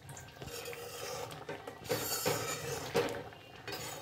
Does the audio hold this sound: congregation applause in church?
no